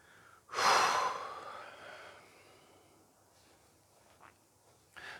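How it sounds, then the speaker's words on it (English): A person draws one deep, loud breath in close to the microphone, trailing off into quieter breathing and a few faint soft sounds in an otherwise hushed room. "Take a breath."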